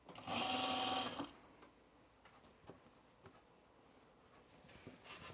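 A sewing machine stitches the crotch seam of a pair of trousers in one quick burst of about a second. Faint handling sounds of the fabric follow at low volume.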